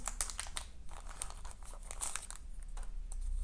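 Crisp crinkling and rustling of a small tobacco seed packet being handled, in irregular bursts, close up and fairly quiet.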